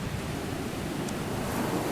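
Storm wind roars over crashing sea waves in a steady, dense wash of noise that stays loud and unbroken throughout, with no voices.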